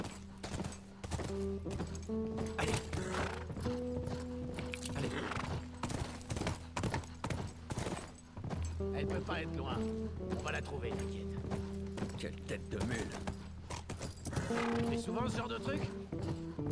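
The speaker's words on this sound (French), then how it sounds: "Allez, petite balade à cheval." Steady clip-clop of horse hooves with an occasional neigh in The Last of Us Remastered, set against a looping game-style music track with synth tones throughout.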